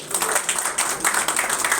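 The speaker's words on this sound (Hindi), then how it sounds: "तालियां होनी चाहिए" An audience applauds at a gathering during Maryam Riaz Watto's Manchester UK tour, a dense, fluttering wash of many hands clapping together, steady and fairly loud throughout, with no talking over it.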